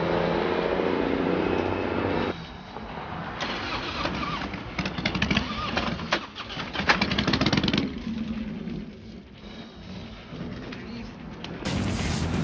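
A motorcycle engine starting and running, rough mid-pitched revving that rises and falls over several seconds, close and fairly loud, with no talking.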